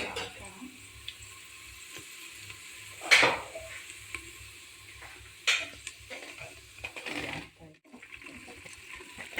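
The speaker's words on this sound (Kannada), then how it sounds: "ಈರುಳ್ಳಿ ಸ್ವಲ್ಪ ರೋಸ್ಟ್ ಹಾಕಿ." Onions roasting in a pan for a pumpkin and green gram stir-fry, a soft continuous sizzle punctuated by a few louder scraping stirs of the spoon, close by and fairly quiet.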